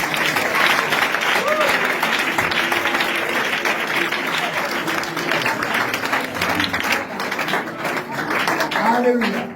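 Church congregation applauding and cheering during a French-language deliverance sermon: sustained, full crowd clapping mixed with voices calling out, loud and continuous throughout.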